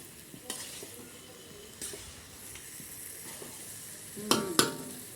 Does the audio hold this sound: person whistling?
no